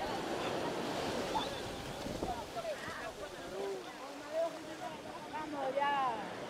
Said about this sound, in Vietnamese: Ôi, sóng biển mạnh quá.